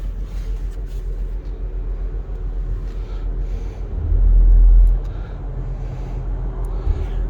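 A 2021 Audi RS5 Sportback Ascari Edition pulls under load while driving, a steady low engine rumble from inside the cabin that swells into a deeper, louder drone for about a second before settling back.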